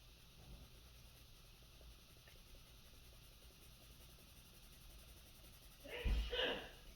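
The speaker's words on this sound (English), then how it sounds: "and we have a sneeze" A single short sneeze bursts out near the end after several seconds of quiet room hum.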